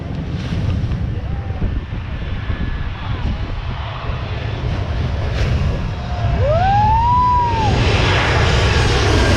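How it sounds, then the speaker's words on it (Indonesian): A jet airliner passes low overhead at Maho Beach, its loud engine roar building and swelling with strong wind buffeting the microphone, while voices talk underneath. "Kalau pesawat di atas kepala sedekat ini sih bisa lah ya di tempat lain."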